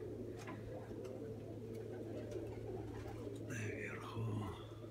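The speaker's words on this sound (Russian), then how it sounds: "Вот они, голуби." Pigeons cooing faintly outdoors against a steady low hum, with a short louder call near the end and a voice speaking in the background.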